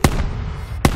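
Two loud, booming sniper rifle shots from the video game Call of Duty: Black Ops 4 come about a second apart, each a sharp blast with a rumbling tail.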